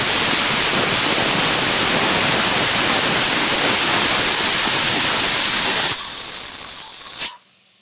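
A hand plasma cutter slices through metal with a loud, steady, harsh hiss that runs unbroken for several seconds and then cuts off abruptly, with no voices.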